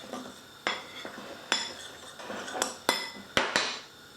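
Flour, salt and black pepper are mixed in a bowl, with a series of irregular metallic clinks and scrapes of a utensil against the bowl, close and fairly crisp, and no talking.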